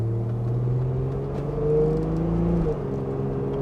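From inside a sealed 2001 Plymouth Prowler, the engine hums and rises smoothly while accelerating in second gear, a moderate, steady cabin drone with a brief shift near the end.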